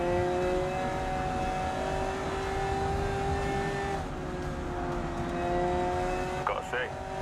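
Race car engine from the video game Grid Legends holds a steady, droning hum with sustained tonal whine, continuous and moderately loud throughout, with a voice talking over it.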